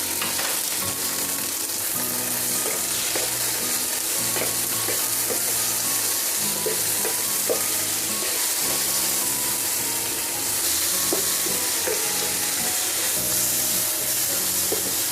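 Sliced tomatoes and onion sautéing in a pan for ginisang giniling, a steady, close frying sizzle with scattered stirring scrapes and clicks throughout, no talk.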